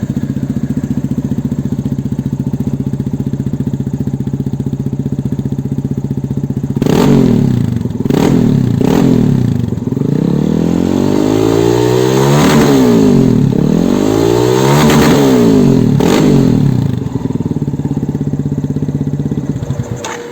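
A 2020 Yamaha XTZ 250 Lander motorcycle engine idles steadily, then is revved several times, the pitch climbing and falling in loud bursts before settling back to idle.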